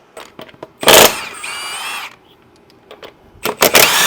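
Nearby, an impact drill fires in loud, rattling bursts removing lug nuts from the wheels of a 2023 Can-Am X3, with a brief high whirring spin between them and quiet pauses.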